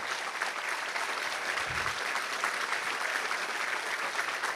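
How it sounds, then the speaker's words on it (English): An audience applauds city workers at a State of the City gathering in El Segundo, with steady, even clapping that carries through at moderate loudness. "Gentlemen, stick your hand in the air so we can clap for you."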